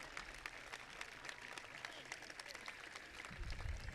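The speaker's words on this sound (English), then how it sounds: "Give yourselves a round of applause." A large crowd at a tax day protest rally in Washington DC applauds with a thick, continuous wash of clapping and some cheering, which swells slightly toward the end.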